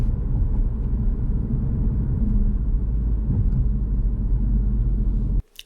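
A car's low engine and road rumble, heard from inside the car, as it drives downhill through a town centre. The drone holds steady, then cuts off abruptly near the end.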